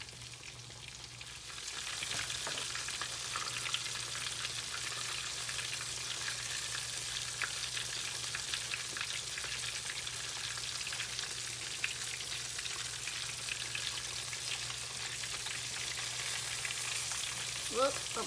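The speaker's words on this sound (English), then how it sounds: "It'll only take about 4 to 5 minutes to fry this catfish up" Catfish fillets frying in hot oil in a skillet, a steady dense sizzle running continuously throughout, with a brief clack of handling near the end.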